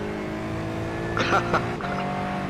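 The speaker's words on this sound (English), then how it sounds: "I have liked the sound of this car since I brought it onto the service." Racing car engine in a sim racing game, a steady droning hum with layered harmonics that holds throughout, with a brief voice or rev burst in the middle and someone talking over it.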